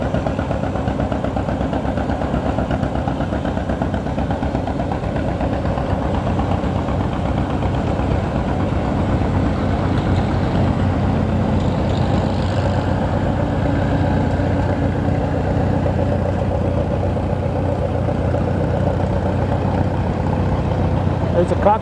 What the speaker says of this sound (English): So far, nothing but John Deere and farmhall tractors.